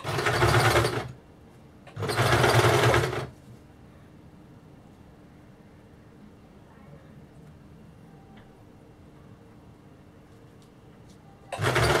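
A sewing machine stitching a designer blouse along marked lines runs in two loud bursts of about a second each near the start, then stops for a long stretch of low room noise before starting again at the very end.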